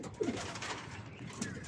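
Pigeons kept in a loft give a few soft, low coos against a morning background of faint rustling and room noise.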